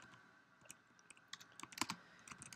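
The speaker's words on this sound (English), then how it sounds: "if I can type correctly" Computer keyboard typing, a quick run of light plastic key clicks in irregular bursts, close and fairly quiet, with no talking.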